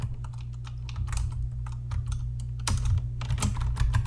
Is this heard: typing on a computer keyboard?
yes